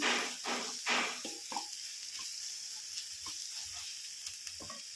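Ivy gourd frying in oil for an onion masala curry, a steady hissing sizzle with a few soft stirring knocks, close and moderately loud.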